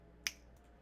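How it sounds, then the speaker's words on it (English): A single crisp finger snap rings out close up, one sharp click in an otherwise quiet room. "I'm going to snap my fingers and it's going to be done."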